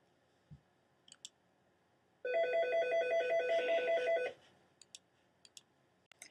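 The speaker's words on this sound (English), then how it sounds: "please pardon the phone ringing." A telephone rings once, a steady electronic trill lasting about two seconds indoors, surrounded by faint clicks that sound like a computer mouse.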